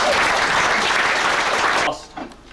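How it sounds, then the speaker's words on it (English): A crowd applauds loudly and steadily at a cricket club pavilion opening, a dense wash of clapping that cuts off abruptly near the end with a few scattered claps trailing. "So give yourselves a round of applause."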